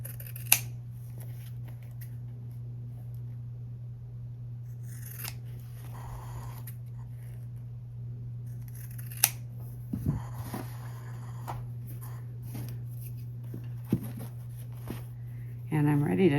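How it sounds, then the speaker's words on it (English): Scissors make several short, crisp snips on the fabric corners of a sewn mini boxy bag, spaced irregularly over a low steady hum, quiet and close. "I'm going to go ahead and trim down these corners, making sure not to snip into my stitching at all."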